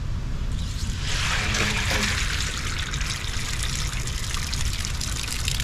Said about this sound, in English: Look at all that water still coming.